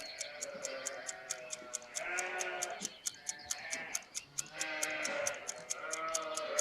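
Sheep bleat repeatedly in a flock, their calls rising and falling over several seconds, close and fairly loud, with a steady sharp ticking pulse running underneath throughout.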